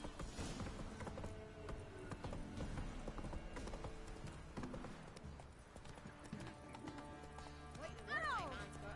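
Horse hooves clip-clopping at pace in The Witcher 3, a steady rhythmic gait up close, with a brief whinny near the end and a voice talking over it.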